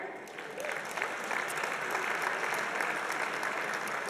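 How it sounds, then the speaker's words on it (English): An audience at a business awards ceremony claps steadily in sustained applause, a dense, even patter of many hands filling the room. "Round of applause for AIR."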